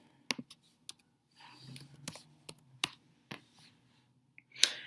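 Computer keyboard being typed on nearby, scattered sharp clicks in short irregular bursts with quiet gaps between keystrokes.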